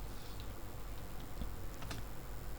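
Typing a name on a computer keyboard produces quiet, quick key clicks and taps over faint background hum, with no talking.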